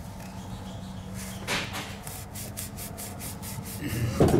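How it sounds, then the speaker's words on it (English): A red Scotch-Brite pad scuffs a motorcycle starter clutch part in close, rhythmic rubbing strokes, soft and abrasive, with a louder scrape at the end. "scuff all this stuff up with this red Scotch-Brite, the same thing I use for scuffing up fork tubes"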